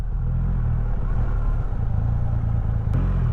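A motorcycle engine runs steadily while being ridden, a low, continuous rumble with some clatter that stays loud and close throughout, with no talk over it.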